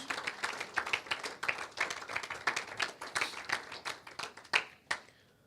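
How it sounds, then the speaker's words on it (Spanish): A church congregation applauding, with many hands clapping in a lively, uneven patter that holds at a moderate level, then thins to a few final claps and stops. "Ponemos un fuerte aplauso al Señor por nuestras ofrendas y diezmos."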